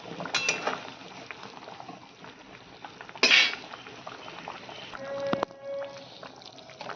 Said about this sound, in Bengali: এবার এটাকে আমি দু মিনিট ফুটাবো